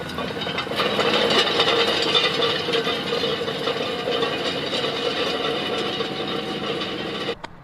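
A farm tractor sits idling in an open field during spring barley rolling, its engine giving a steady, loud, even drone with a faint mechanical rattle that continues unbroken before a brief clunk near the end.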